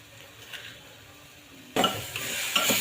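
Grated beetroot stirred in a pressure cooker, a quiet scrape that jumps into a louder close sizzle and rasping stir strokes against the metal partway through, with no voices.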